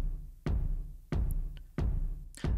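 A roomy kick drum sample hits four times in an even, steady rhythm, each a booming low thud with a smeared ambient tail, heard alone.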